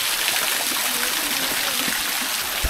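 Water from a cave waterfall pours into a kiddie pool, a constant close rushing splash with a faint voice beneath it.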